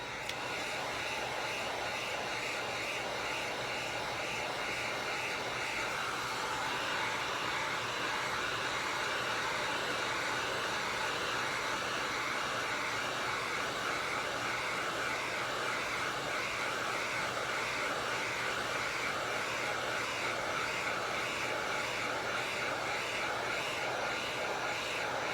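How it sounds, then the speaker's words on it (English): Heat gun blowing over an epoxy-coated tumbler, a continuous steady airy whir with a slight shift in tone partway through, close and unbroken with no talk. "So I'm going to take the heat gun again."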